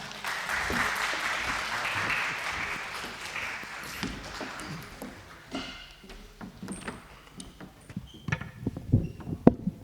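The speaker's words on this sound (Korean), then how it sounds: "우리 박수로 우리 학생부 선생님들과 아이들 맞이하도록 하겠습니다" Congregation applause at a Sunday church Christmas service, strong clapping at first that thins out and fades, leaving scattered knocks, shuffles and movement in the hall.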